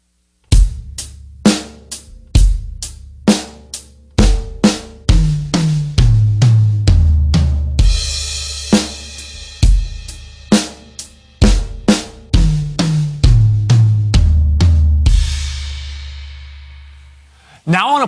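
A drum kit plays the final version of a beat with a drum fill at a slow, even tempo. The hits are punchy and close, with crash cymbal swells, and the pattern ends on a ringing cymbal decay.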